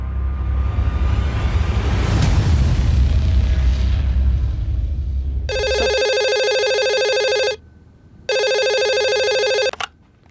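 A telephone rings in two electronic bursts of about two seconds each, separated by a short gap, after a loud low rumbling boom fades out.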